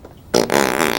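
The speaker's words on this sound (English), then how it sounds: "He has a fart machine." A fart machine lets out one loud, raspy, sustained blast after a quiet moment, with a brief break partway through, close and alone without speech.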